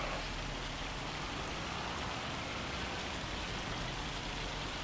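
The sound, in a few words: rain falling in the video game Farming Simulator 25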